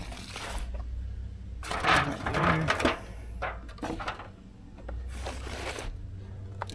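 Aging meat grinder that struggled the previous season, grinding deer meat, gives uneven crunching and squishing bursts that swell and fade as chunks are fed through, heard alone and close.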